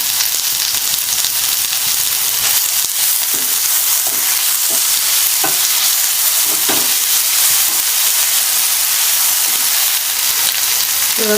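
Mutton frying with curry leaves and ginger garlic paste sizzles steadily and loudly, close by, with scattered clicks and scrapes of stirring throughout and no talk.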